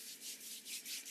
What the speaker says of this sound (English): first rub your hands together